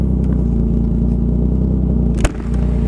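A low, rumbling Kawasaki Zephyr motorcycle engine idles and throbs steadily nearby, with a brief sharp knock near the end; no voices.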